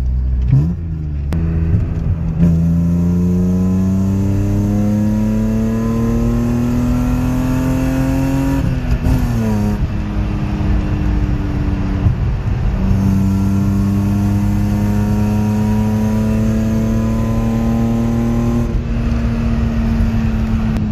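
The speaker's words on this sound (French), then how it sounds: "la voiture elle fait beaucoup de bruit" A BMW M youngtimer car engine revs loudly and repeatedly, pitch climbing through the gears, dropping briefly, then rising again in a sustained roar.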